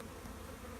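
Honeybee field bees buzz steadily around a swarm tree near a bee yard, a faint continuous drone with no other sounds over it.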